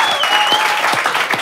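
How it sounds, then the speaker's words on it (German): Lively, even audience applause at a live podcast interview show, close and continuous across the short stretch with a few sharper claps standing out. "Ein Applaus für Roman Richter."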